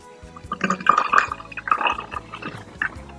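Natural perfume body spray liquid trickles through a funnel into a bottle, a close, soft stream of gurgles and drips that comes in uneven bursts.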